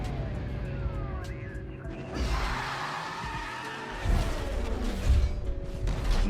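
A BMW M3 GTR drives in Need for Speed Most Wanted, its engine droning steadily at moderate volume. Tire skids and a faint police siren sit in the background, and the engine swells louder near the end.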